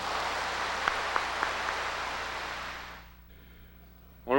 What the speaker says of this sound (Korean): 우리 시장님 박수로서 환영해 주십시오.